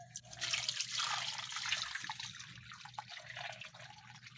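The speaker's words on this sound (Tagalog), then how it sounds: "dahil medyo maligamgam na ang tubig na lemongrass, ay ibuhos na natin dito sa ating chicken" Warm lemongrass water pours over raw chicken in a bowl, a soft continuous splashing and trickling that stays close and fairly quiet throughout.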